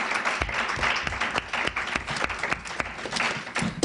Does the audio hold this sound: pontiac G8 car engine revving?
no